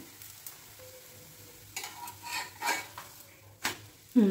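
Bottle gourd roti frying in oil on a pan, a low sizzle running under several scraping and clattering strokes of a utensil against the pan, with a sharper clank at the close.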